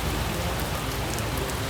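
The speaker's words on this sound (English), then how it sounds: "it's raining again." Steady rain falls near Telford Lake in Alberta, a dense, even hiss of drops pattering on surfaces with no voices over it.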